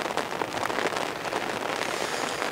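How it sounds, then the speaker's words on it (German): Rain falling on a leaky tent roof while camping in Palermo, Sicily, a steady dense patter close overhead, continuous with no voices. "Aber wo kommen wir Regen her?"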